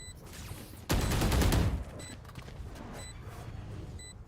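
Automatic rifle fire sprays in a Valorant match, a dense loud burst lasting about a second, followed by quieter scattered game sounds.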